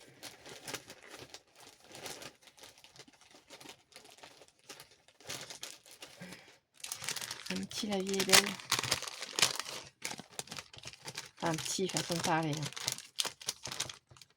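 Close crinkling and rustling of stiff, lightly glittery wallpaper comes in bursts, loudest in the second half, while someone talks over it.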